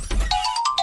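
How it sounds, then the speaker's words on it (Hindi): A mobile phone ringtone plays a short electronic melody of bright repeating tones, clear and close, with no one talking over it. "फिर से इसका फोन।"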